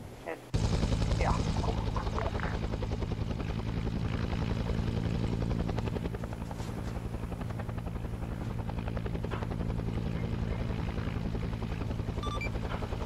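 A helicopter's loud, steady rotor thrum in the video game Arma 3 runs throughout, close and unbroken after a brief quiet start, with faint crackling mixed in.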